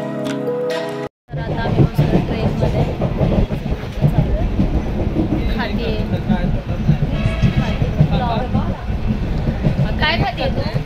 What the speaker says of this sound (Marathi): आणि मी ठाणा स्टेशनला उतरलो आहे आणि आता ट्रेन बघतोय